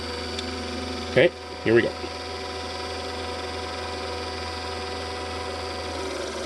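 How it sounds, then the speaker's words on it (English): A steady motor hum from a G&S tire grinder runs without a break and holds an even level throughout, and a voice speaks briefly over it near the start. "you're going to hear the motor speed up after I put the alcohol on"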